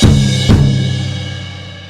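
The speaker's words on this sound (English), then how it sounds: "you are hitting the high tom and middle tom at the same time" High and middle toms of a drum kit struck together in one loud near hit, then struck again about half a second later, each ringing out with a long decaying tail.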